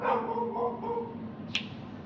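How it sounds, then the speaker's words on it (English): Dogs bark and yip at a distance outdoors, a few faint overlapping barks over steady background noise, with a brief sharp sound near the end. "He barks at everything, and Magic is the same way."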